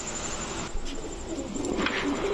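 Soft pigeon coos rise faintly over background noise as pet pigeons of three colours and patterns, including a Red Neck Budapest, are handled by a seller, with murmuring and rustling nearby.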